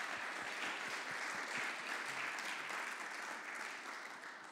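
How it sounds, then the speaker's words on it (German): A youth evening crowd applauding as a guest comes forward, a continuous, fairly close wash of clapping with a few distinct individual claps audible early, fading a little at the close. "Ein Applaus."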